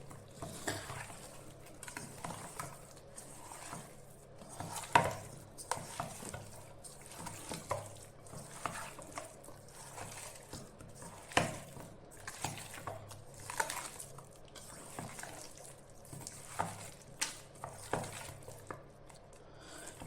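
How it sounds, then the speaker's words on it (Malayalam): Chicken pieces rubbed by hand with onion and tomato into a biryani marinade: close, wet squelching and patting in a steady rhythm of repeated strokes, with no voices. "എന്നിട്ട് നന്നായി തിരുമ്മി യോജിപ്പിക്കുക"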